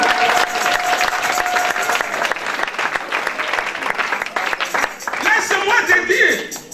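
A church congregation breaks into loud, sustained applause and cheering for Jesus, a dense crowd of clapping with voices mixed in throughout.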